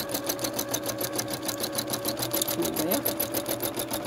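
A sewing machine stitches free motion around a toadstool shape, a fast, steady mechanical chatter of evenly repeating needle strokes from close by, with one brief spoken word over it.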